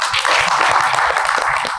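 Dense audience applause in a hall after a Shah Rukh Khan dialogue is quoted, loud continuous clapping from many hands, close and without talk.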